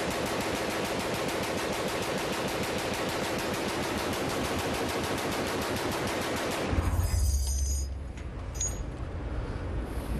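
Assault rifle firing one sustained full-automatic burst of rapid, loud, evenly spaced shots for about seven seconds, then stopping abruptly into a low rumble and quieter handling noise.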